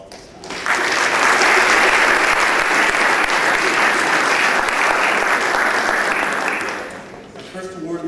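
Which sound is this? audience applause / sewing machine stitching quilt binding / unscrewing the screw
audience applause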